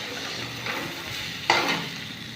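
Vegetables and lentils frying in a pan for khichuri, a soft steady sizzle with a sharp stirring scrape near the middle, close and moderately quiet, no voices.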